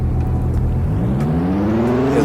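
A Genesis sports car's engine revs loudly up close, rising steadily in pitch over about two seconds with no talk.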